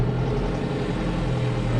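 The engine of a Deutz 6130 TTV tractor runs at a held speed of about 1200 rpm, giving a steady, close, low droning hum with no change over the short stretch.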